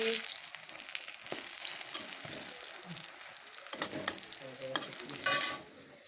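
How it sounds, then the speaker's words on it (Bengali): Eggplant frying in a pan: a soft, continuous crackling sizzle with occasional stirring scrapes and a brief louder burst near the end, heard close and with no talking. "এই দেখো বন্ধুরা আমার বেগুনটাও ভাজি হয়ে যাচ্ছে"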